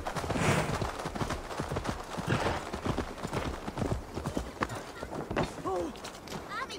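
Horse hooves in the video game Assassin's Creed Valhalla make a rapid, loud, steady clip-clop of a ridden horse under someone talking.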